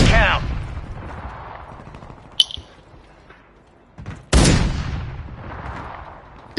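Gunfire in a shooter video game's Resurgence mode: a couple of loud, sharp shots with bursts of noisy blast tails, separated by quieter gaps, with no speech over them.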